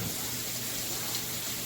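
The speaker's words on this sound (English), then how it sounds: "I use warm water and wash them down really well" Warm water runs steadily from a kitchen tap as sweet potatoes are washed under it, a continuous close hiss and splash with no talking.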